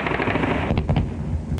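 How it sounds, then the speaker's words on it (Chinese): Gunfire and explosions in Rafah, Gaza, near the border crossing: a dense, rumbling roar of distant fire with a cluster of sharp, rapid reports midway, like machine-gun bursts, and another crack at the end. "拉法不时传来爆炸声。"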